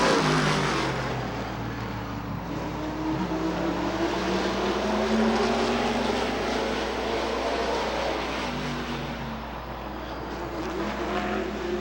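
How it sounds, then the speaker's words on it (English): Race cars at Rockford Speedway in 1996 take the green flag, and a dense, loud roar of many engines builds and rises in pitch as the field accelerates, continuing steadily throughout. "Tom Powell says green flag. Let's go racing."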